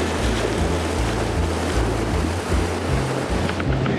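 Pacific Ocean surf washing against rocks, a loud continuous roar of churning water with heavy low rumble and wind buffeting the microphone, no voices.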